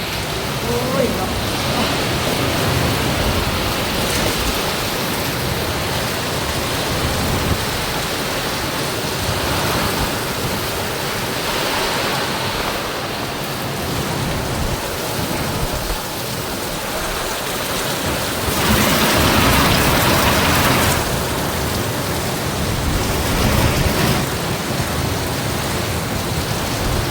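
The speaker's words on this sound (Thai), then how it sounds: "ทั้งลมทั้งฝนพี่น้องเอ้ยเนาะ" Heavy rain and strong wind from a storm battering a house, a loud continuous roar of downpour and gusts that swells and eases without pause.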